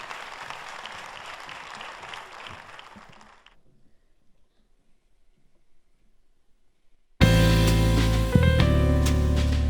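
Applause from a TV show audience for singers rises in a broad wash of clapping, fades to near silence, then gives way abruptly to loud music.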